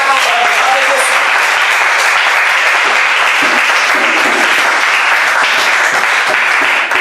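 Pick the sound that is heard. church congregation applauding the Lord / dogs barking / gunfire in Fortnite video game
church congregation applauding the Lord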